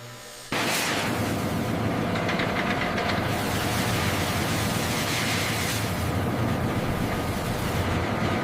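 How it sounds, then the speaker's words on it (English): Two diamonds grind against each other as they spin on a lathe, a loud, steady, broadband whirring roar that starts abruptly and holds without a break, with a faint rhythmic flutter in it; no voices. "Two diamonds spinning against each other on a lathe."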